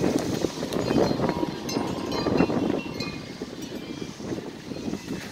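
Gusty wind buffets the microphone with rumbling low thumps that swell and fade throughout.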